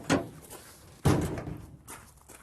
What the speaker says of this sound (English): put the tailgate down